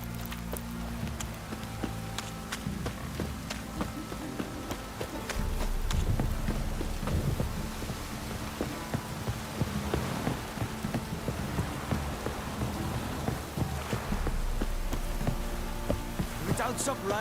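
Steady rain patters and hisses throughout in The Witcher 3: Wild Hunt video game, with sharp drops and splashes scattered over it and a deeper thunder-like rumbling swell partway through. No one speaks.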